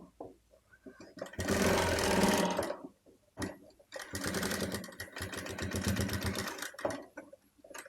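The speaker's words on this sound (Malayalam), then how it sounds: "അപ്പോൾ ഞാൻ അതുപോലെ ഒരു പതിച്ച് സ്റ്റിച്ച് കൊടുക്കുന്നുണ്ട്." Domestic sewing machine top-stitching a pleated baby frock, running close and loud in two long steady bursts separated by a brief pause, with a fast mechanical whirring rattle.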